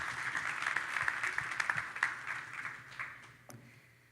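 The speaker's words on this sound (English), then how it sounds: "So one last round of applause for our amazing sponsors." An audience at a leadership event gives a round of applause for the sponsors: dense clapping that holds for a few seconds, then tapers off and fades out.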